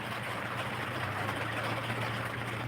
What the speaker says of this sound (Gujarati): વરસાદ ચાલુ થઈ ગયેલો છે કેવો પડે છે જુઓ